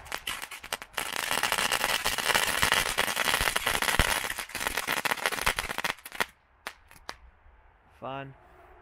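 A Magic Whip firework bursts in a loud, dense crackling of rapid popping bangs for several seconds, then a few scattered sharp pops follow as a voice speaks briefly.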